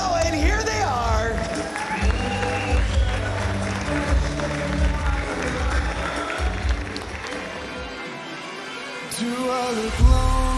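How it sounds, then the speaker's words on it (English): A crowd applauds and cheers at an outdoor vow renewal ceremony in an English garden setting, a steady wash of clapping blended with voices and background music, continuing throughout at moderate loudness. "Let's keep that applause going."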